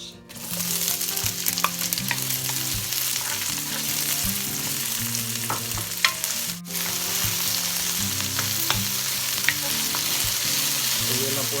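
Chopped onion frying in hot cooking oil for a duck caldereta, a loud continuous sizzle with scattered crackles and a few stirring scrapes, no voices.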